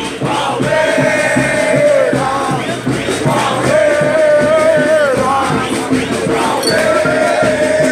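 Palmeiras supporters at Palestra Itália celebrate a tenth championship, a large crowd chanting and cheering in sustained, rising waves of voices.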